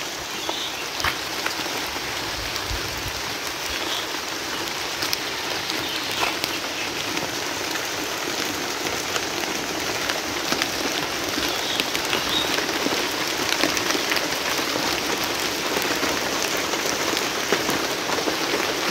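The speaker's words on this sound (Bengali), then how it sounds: "চলে আসলো বৃষ্টি।" Steady rain falls on surfaces in a Bangladeshi village, a dense, even patter that holds close and fairly loud throughout, with no voices over it.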